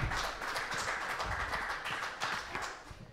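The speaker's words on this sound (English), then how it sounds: "Another round of applause." A church congregation applauds the choir at a lively worship service, with steady, dense clapping from many hands filling the room at a moderate distance and continuing without a break.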